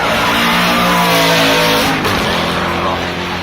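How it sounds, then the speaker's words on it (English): A Porsche 911 GT3 with a V8 engine passes at the Goodwood Festival of Speed, a loud sustained engine roar with rising and falling pitch sweeping by, backed by crowd chatter. "that's got the big V8 engine in one"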